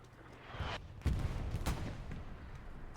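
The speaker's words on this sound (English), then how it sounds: "Artillery is certainly being a nuisance." Artillery fire in a competitive video game match, with a couple of heavy booming blasts and one sharp crack over a rumbling battlefield background, moderately close.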